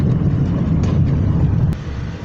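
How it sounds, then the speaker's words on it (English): Strong wind gusts in a desert sandstorm at Desert Hot Springs roar into the microphone as a dense, continuous rumble that eases slightly near the end. "You can see how strong the wind is on those trees. They're blowing like crazy."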